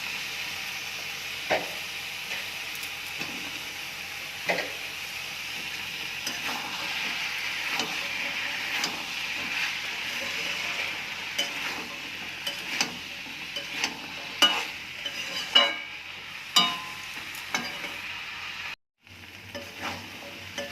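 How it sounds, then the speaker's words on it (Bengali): Kidney beans and potatoes frying in spiced oil, a steady soft sizzle under repeated scraping and knocking of a spoon stirring the pan, close and moderately quiet, with a brief cut near the end. "রাজমাটা কষা হয়ে গেছে"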